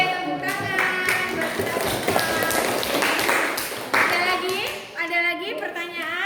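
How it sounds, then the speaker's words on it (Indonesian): A classroom of students claps for a teacher's lesson, with brisk, close clapping mixed with children's voices and chatter over it, fading toward the end as someone speaks. "Oke, tepuk tangan."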